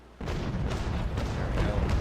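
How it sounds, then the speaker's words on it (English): A cannon broadside fired from HMS Victory's middle gun deck in the Naval Action sailing game, a sudden heavy boom that rolls into sustained rumbling, repeated blasts for about two seconds. "Looks like the middle gun deck is already loaded. Fire."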